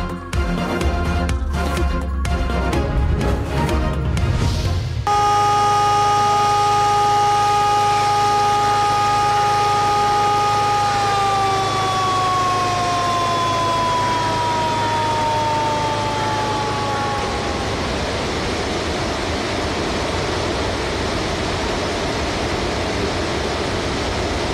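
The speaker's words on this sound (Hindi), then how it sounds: "सायरन बज गए, स्पिलवेज खोल दिए गए।" A loud dam siren at Rawal Dam, Islamabad, wails continuously as spillways open, holding steady then slowly falling in pitch before fading into a broad rushing noise; a burst of busy sound comes before it.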